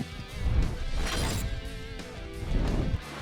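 Race car slamming hard into the wall during a dirt track race, a loud sustained crashing roar with grinding impact noise, engines and crowd din mixed in throughout.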